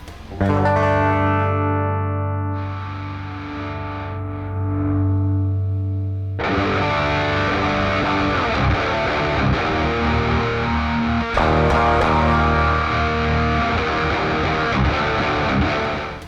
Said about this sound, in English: You only want to be hearing the distorted layer on your guitar